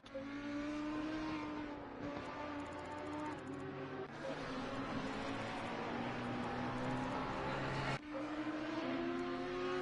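A McLaren IndyCar engine in a sim race, a loud, high-pitched whine that climbs through the gears with sharp drops at each upshift, passing close with a steady roar.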